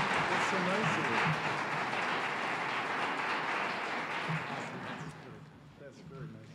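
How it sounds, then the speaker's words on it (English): Audience at an awards ceremony applauds steadily, a broad wash of clapping that gradually fades as a voice begins speaking over it. "let's have another round of applause for Boston Properties"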